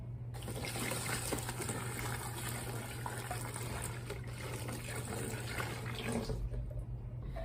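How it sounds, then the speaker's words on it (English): Water poured from a tap into a container of shredded paper to soak it for papermaking, a steady, low-level gushing flow that runs continuously and alone, easing off near the end. "we just pour some water in until it's over the paper, covering the paper, and let it sit for a day"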